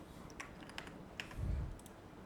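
A computer keyboard taps out a few letters into a Google Docs text box, with sparse, faint, quick key clicks and a brief low thump partway through.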